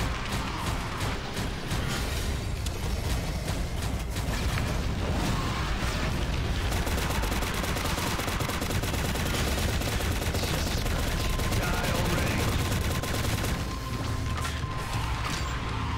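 Sustained rapid gunfire from the shooter video game Shadowgun Legends during a boss fight, with dense overlapping bursts, impacts and mechanical clatter that run loud and nearly nonstop, and no one talking.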